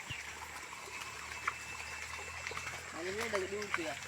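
A stream trickles and gurgles steadily at moderate distance, and people talk over the flowing water partway through.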